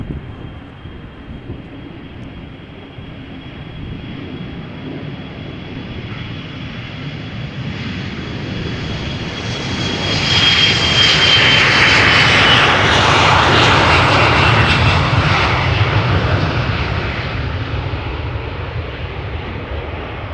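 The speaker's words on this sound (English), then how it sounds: "Next up to take off from center, from left, is another Embraer from KLM. Another Embraer 175." A KLM Embraer 175 jet takes off from Amsterdam, its engine roar building steadily and peaking around the middle as it passes close and loud, then holding as a broad sustained rumble with a faint high whine, no talk.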